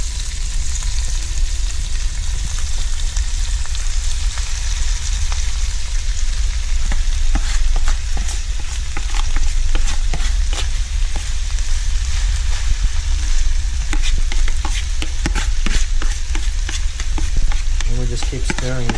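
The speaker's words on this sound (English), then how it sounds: "And we just keep stirring" Sweet leaves fry in a pan in a Malaysian village kitchen, with a dense, continuous sizzle and repeated scraping and clattering from close-up stirring throughout.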